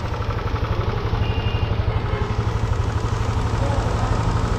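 Yamaha Aerox V1 scooter engine idling after a stator replacement, a steady close putter with a rapid even pulse, running alone without talk.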